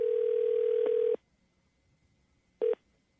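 An outgoing telephone call produces a steady ringback tone that lasts about a second. It is followed by a pause and then a short second burst, clear and isolated.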